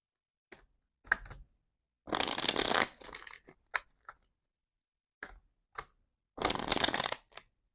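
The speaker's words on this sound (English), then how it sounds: "I'm just going to shuffle these 3 more times as well for the clarifiers." Tarot cards shuffled by hand in a quiet room: short riffles and rustling bursts, some longer and louder, separated by pauses and small taps.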